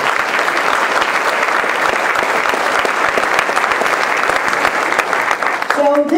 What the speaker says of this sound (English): We in Team Maryland want to give you a round of applause